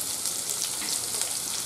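Chopped ginger hits hot oil in a pan and sizzles steadily, a close, dense crackling hiss that holds evenly with no voices.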